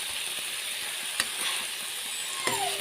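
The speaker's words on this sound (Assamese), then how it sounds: "এনেকৈ ভাজি লৈছোঁ।" Food fries in an uncovered pan with a quiet, steady sizzle, broken by a couple of light utensil clinks.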